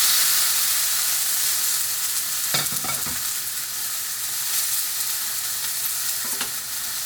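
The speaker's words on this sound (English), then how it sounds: "in goes the steak" Steak laid in a preheated, lightly smoking pan, giving a loud, steady, close sizzle with a few brief crackles and spatters over the constant hiss, no one talking.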